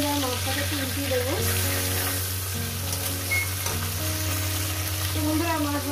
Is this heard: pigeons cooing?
no